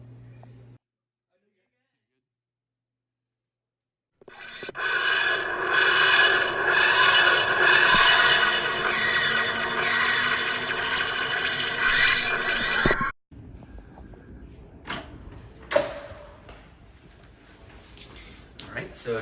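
A whirring, rasping time machine effect swells in after a silence, pulses and grinds loudly for about nine seconds, then cuts off abruptly, followed by faint sounds and a voice.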